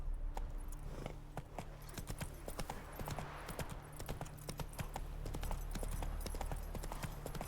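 Hoofbeats of the horse Roach galloping in The Witcher 3, a fast steady clip-clop over a constant low game soundscape, with sharp repeated thuds running throughout.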